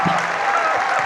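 Dense, steady applause from an audience at a lecture on depression and psychiatry, loud and close, sustained throughout the short burst with no voices over it.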